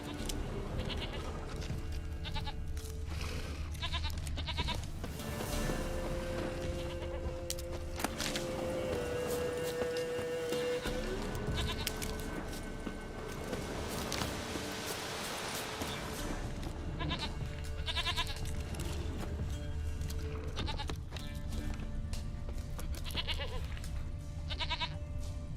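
Goats bleat repeatedly in The Witcher 3 on PC, several distinct wavering cries rising over a busy, steady game soundscape with music and ambience throughout.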